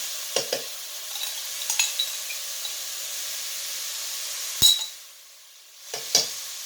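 Minced garlic sizzling in a pot gives a soft, steady hiss, punctuated by several light stirring clicks and scrapes, including a sharper metallic tap near the middle; no one speaks.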